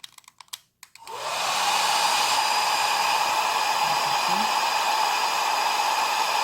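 Hair dryer blowing on a silver clay ring after a brief handling noise, then a loud, steady, continuous whir running to the end without speech.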